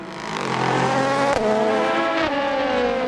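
Prototype race cars at Monza during the ELMS 4 Hours race roar past loudly, engine pitch rising and shifting as they accelerate, with a brief sharp transient midway.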